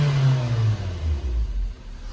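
A car engine with a throttle body fault that logged code P122 revs up close and loud, then the revs drop and waver unevenly, all without any talking.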